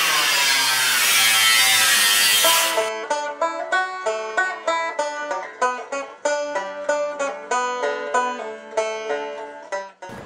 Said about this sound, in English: We'll take this to the grinder. Maybe my last bit of cutting for today.